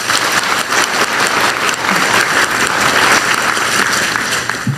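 An audience at an industry investment announcement applauds, dense sustained clapping, loud and near, without a break.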